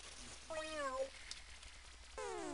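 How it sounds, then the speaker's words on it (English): Two meows from a cat character in the Mother 3 video game, a long falling cry followed by a second one starting near the end, set against quiet game background sounds. "Kitty cat."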